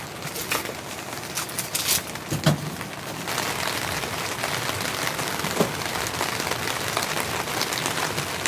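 Heavy rain pours onto a winter camping tent in a steady, dense patter that never lets up, with occasional louder drops striking close by and no talking.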